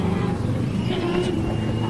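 A damaged short-course off-road race truck engine runs roughly at a track, a coarse low rumble with uneven surges and dips, heard at moderate distance with faint voices underneath.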